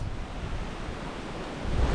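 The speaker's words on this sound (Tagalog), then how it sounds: "Tubig, lakas ng agos." Strong river current of fast-flowing water, a close, steady rushing wash with wind-like noise and a louder surge at the end, with no talk.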